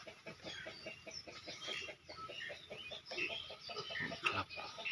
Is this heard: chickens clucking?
yes